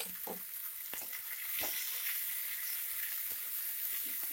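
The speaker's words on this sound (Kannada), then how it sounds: "2 ಇಂದ 3 ನಿಮಿಷ ಟೊಮೆಟೊನ ಫ್ರೈ ಮಾಡ್ಕೊಳ್ಳಿ ಮೀಡಿಯಂ ಫ್ಲೇಮಲ್ಲಿ" Tomatoes frying on medium flame for a Kannada vegetable sagu, a steady close sizzle with scattered spoon scrapes and stirring taps, no voices.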